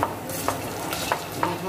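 Onions fry in a pan, turning light golden, under a steady sizzle while a spoon stirs them, scraping and clinking at regular intervals nearby; no one speaks.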